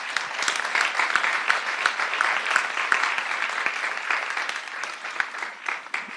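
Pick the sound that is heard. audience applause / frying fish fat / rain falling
audience applause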